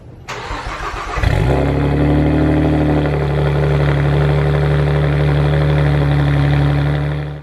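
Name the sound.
2008 Saab 9-3 Turbo X engine running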